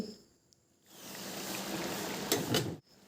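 Eggplant curry bubbling on a medium flame in a home kitchen, a steady soft simmering hiss that swells after a quiet start, with a few brief clinks near the end.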